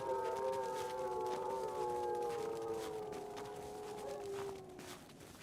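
Dogs howling in a snowy survival video game, several long wavering overlapping howls sustained close by and fairly loud, tapering off near the end with no talking.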